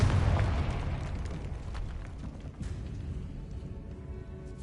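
The Confringo fire spell bursts in the Hogwarts Legacy catacombs, a heavy, rumbling explosion that starts loud and decays slowly into a low roar with no voices.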